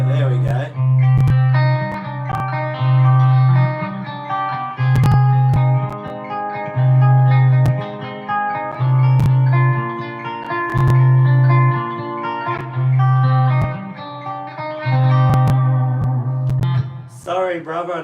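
Electric guitar drenched in reverb, ringing sustained notes and chords over a pulsing low tone, played loud and continuous with a spacious tail.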